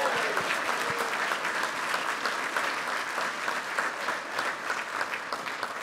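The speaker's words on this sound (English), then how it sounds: "Can we give like a big round of applause for the husband who is Special Forces Green Beret," Audience applause at the Colorado State Sports Hall of Fame 2015 ceremony, dense sustained clapping from a large crowd that stays even and loud throughout.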